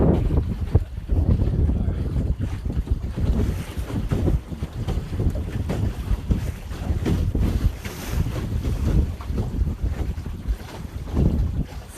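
Steady wind rushes and buffets across a small sailboat, a B & B Core Sound 20 Mark III, with water sloshing along the hull, continuous and close throughout.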